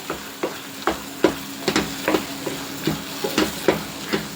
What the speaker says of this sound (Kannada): ಇಷ್ಟು ಚೆನ್ನಾಗಿ ಎಣ್ಣೆಲೆ ಅದು ಫ್ರೈ ಆಗುತ್ತೆ ನೋಡಿ